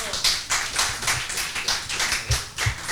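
A small group claps to welcome podcast guests in a studio, the claps coming as a quick, fairly close series of sharp strikes at an uneven pace.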